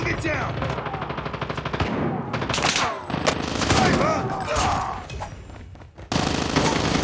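Bursts of automatic gunfire from the game Call of Duty crackle loudly and almost without pause, with someone talking excitedly over the shooting.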